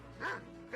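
A dog gives two short barks, a yip at the start and another near the end, fairly faint against a low steady hum with no talk.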